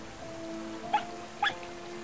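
A fox in the video game RiME gives two brief, high yaps about half a second apart over a steady, quiet background hum.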